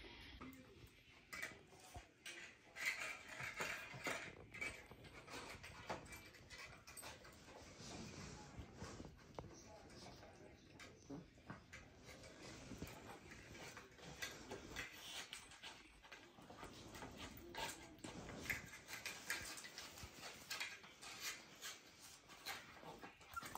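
A new puppy whimpering and panting indoors, with faint, thin whines and soft breathing over a steady, hissy background for the whole stretch, and occasional small knocks and clatter.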